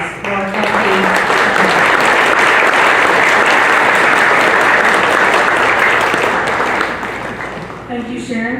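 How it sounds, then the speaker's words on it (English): Sustained audience applause at the 2022 Corvette Hall of Fame inductee announcement, a dense steady clapping wash that swells quickly, holds loud for about six seconds, then thins out near the end. "let's give one more round of applause for Elfi."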